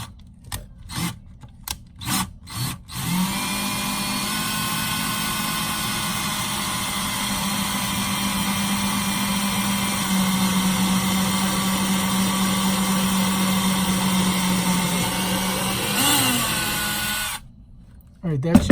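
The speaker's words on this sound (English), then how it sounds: "We got a little bit bigger drill hole" After a few short bursts of whirring, a power drill boring a hole in a bathroom vanity drawer runs steadily for about fifteen seconds, a close, sustained buzzing whine that stops abruptly.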